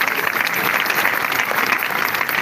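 A church congregation at a memorial service applauds in a dense, steady wash of clapping that holds at full strength throughout, close and loud with no break.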